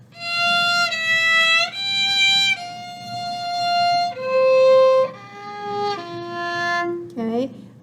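Solo violin plays a slow, lyrical passage from Massenet's Meditation from Thais, sustained bowed notes moving in steady steps with a brief upward slide at the end, close and alone with no talking.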